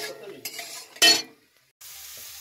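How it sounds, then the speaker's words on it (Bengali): Peanuts fry in ghee in a pan, a short stretch of close sizzling with a sharp scrape of stirring, then a brief pause before a quieter hiss resumes. "দেখো আমার বাদামটা এই যে ভাজা হয়ে এসেছে"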